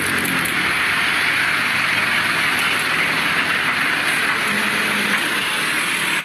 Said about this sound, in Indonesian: Wadidaw, ada kereta api Thomas lagi teman-teman ya